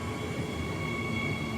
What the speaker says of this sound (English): The train arrived, and Hugo stepped aboard.